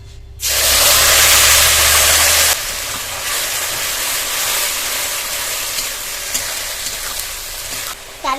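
Black cumin and spice paste hitting hot oil in a rural Bengali home kitchen, a loud sudden hiss that flares hard for about two seconds, then settles into a steady crackling sizzle.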